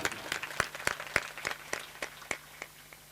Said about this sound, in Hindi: एक बार जोरदार उनके लिए ताली।